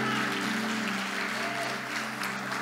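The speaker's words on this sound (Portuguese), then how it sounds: "Você pode aplaudir ao Senhor no nome de Jesus?" A church congregation claps for the Lord during a Sunday service: dense, steady applause from many hands fills the whole stretch, close and full, with no clear voices above it.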